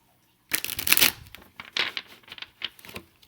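Cards are shuffled in a quick riffle, a burst of rapid fluttering clicks followed by a few softer shuffling taps and rustles.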